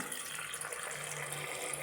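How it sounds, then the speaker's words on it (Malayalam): Water is poured into a pressure cooker in a home kitchen, a steady, close splashing stream that runs unbroken and fairly quiet for its whole short length. "ആവശ്യത്തിനുള്ള വെള്ളം ഒഴിച്ച് കൊടുക്കാം"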